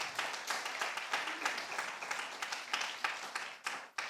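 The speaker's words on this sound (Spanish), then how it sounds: "Vamos a darle un fuerte aplauso al Señor." Steady, dense applause from a church congregation, loud and continuous with slight surges, sustained for several seconds without talk.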